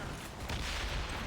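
Ship cannons firing at sea in Assassin's Creed Rogue, a dense rumbling broadside of booms blending into one continuous roar across the whole moment, loud and close.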